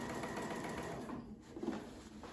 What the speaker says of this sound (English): it's just a matter of stitching stitching along the seam